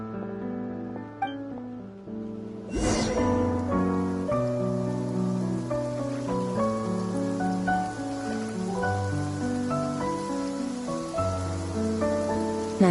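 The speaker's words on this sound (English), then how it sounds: "I like the rain." Rain falls in the video game Genshin Impact, a steady hiss of raindrops beginning partway through and continuing beneath melodic game music.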